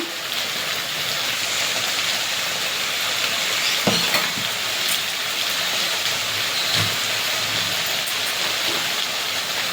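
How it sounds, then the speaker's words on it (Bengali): Chili paste sizzling and frying steadily in a hot pan while cooking kochur loti with prawns, a loud continuous crackle with a few stirring knocks, no talking. "লঙ্কাটা ভালো করে কষিয়ে নেবো লঙ্কা বাটা দিয়ে"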